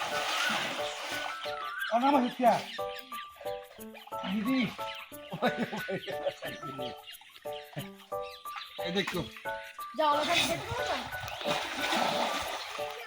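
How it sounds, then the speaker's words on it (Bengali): People splash and play while bathing and swimming in village water, with irregular bursts of splashing close by under lively talk and shouting throughout. "ওনারা এখন গোসল করতেছে"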